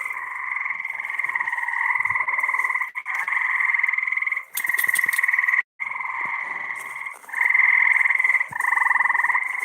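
A loud, continuous chorus of frogs croaking at night on open water, dense pulsing calls with brief gaps, no talking.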